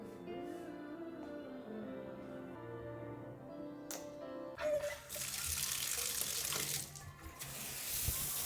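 Shower water running steadily in a home bathroom, a continuous hiss that swells louder partway through, with faint music playing underneath at first.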